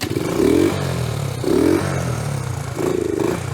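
A 1973 Honda minibike engine fires up and revs in three short rising bursts over a rough, steady idle, loud and close with no talk.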